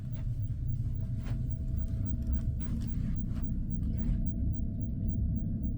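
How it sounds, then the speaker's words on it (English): Steady low rumble of a cabin air conditioner running hard aboard the Queen Mary 2 ship, a loud constant roar with no voices. "the aircon sounds like a jumbo jet."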